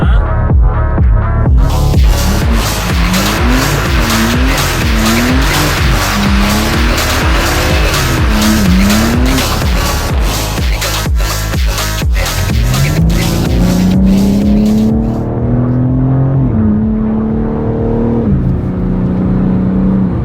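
A BMW M4 G82 does a burnout, its engine revving hard in rising and falling surges while the tires squeal loudly and continuously, then a long, sustained high screech as the car accelerates; close and loud, no talk.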